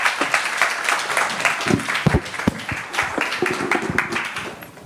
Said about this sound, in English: Please join me in applauding this panel for their interventions.